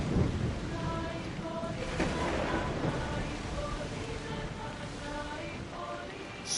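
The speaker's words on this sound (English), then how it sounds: "Wow, that storm." Rain and rumbling thunder from a storm in the video game Assassin's Creed Odyssey, a steady wash of downpour with low rolling booms, while a person talks over it and faint tonal game sounds recur.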